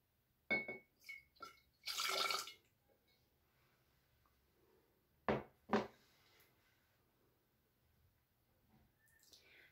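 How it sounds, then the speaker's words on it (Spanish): Water being poured out of a glass jar holding oil and alcohol, heard as a few short splashes and glassy clinks near the start. A brief gurgling pour follows midway, with quiet gaps in between. "tienes que vaciar el agua, pero solamente un poco"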